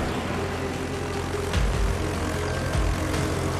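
Fighter aircraft launching in the naval game World of Warships, a steady propeller engine drone with a couple of swelling whooshes as planes lift off, moderately loud and continuous.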